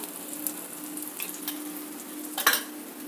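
Oil sizzling under a thin dosa on a hot iron tawa, a steady soft frying hiss with faint crackles and a small spatter near the end.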